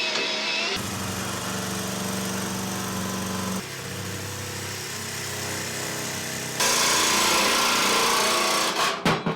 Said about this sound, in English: So take your time drilling through it.